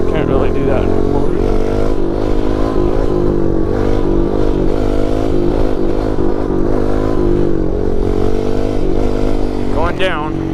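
A pit bike engine bogs and labours on a backyard dirt track, a loud, steady drone with wavering pitch that runs throughout, stumbling rather than revving cleanly, with a voice talking over it near the end.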